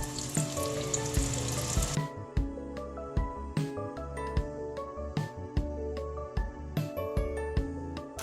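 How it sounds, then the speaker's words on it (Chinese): Pumpkin cheese croquettes deep fry in oil at 170 to 180 degrees, a dense crackling sizzle at first that settles into scattered pops and spits, close and clear with no talking. "接下来要开始炸了，这个油温是170到180度就可以了。"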